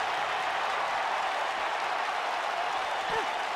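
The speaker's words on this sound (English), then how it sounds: "but the crowd is loving Sasha's act" A video game arena crowd in WWE 2K cheers and applauds in a steady, dense roar during a Sasha Banks Hell in a Cell match, with a commentator's voice faintly mixed in.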